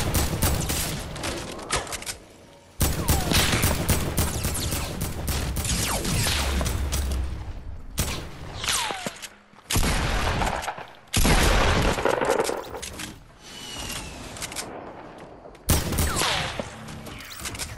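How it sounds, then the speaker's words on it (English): Rapid bursts of video game gunfire crackle and boom in dense, loud volleys, with brief pauses between clusters of shots, sounding close and continuous. "Somebody is shooting at me"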